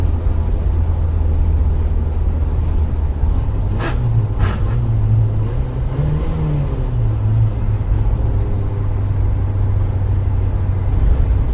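A 4x4 Isuzu Trooper drives down the road, its engine a steady loud low rumble from inside the cabin, with a gear shift and slight rise in revs midway and road noise throughout.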